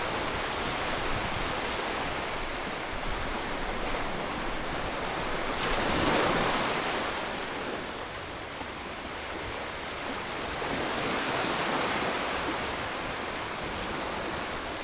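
Ocean waves wash onto a beach in a steady broadband roar, swelling and receding in slow surges, with some wind noise and no voices.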